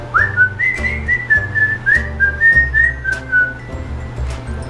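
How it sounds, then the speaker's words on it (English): A person whistles a short, wavering tune of sliding notes, clear and close, with no talking. "Can you whistle?"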